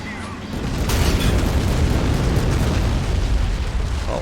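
Heavy 150 mm artillery shells exploding in the WWII strategy game Men of War: Assault Squad, a loud sustained rumbling roar of blasts that swells after a brief lead-in and holds dense and booming to the end.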